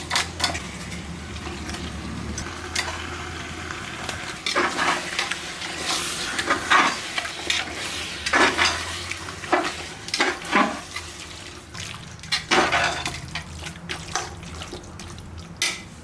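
Mutton is stirred and sizzles in a pot for Ambur mutton biryani, with wet scraping and mixing noises coming in uneven bursts over a low background hum.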